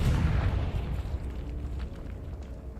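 A Confringo spell explodes in the video game Hogwarts Legacy, a deep booming blast at the start that rumbles and fades into a softer crackling tail, fairly quiet overall with no talking.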